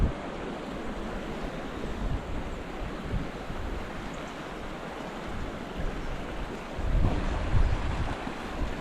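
Flood water rushes through the river at Blue Pools, Briagolong, during stormy weather, a continuous loud roar of fast churning water that surges louder toward the end, with no voices.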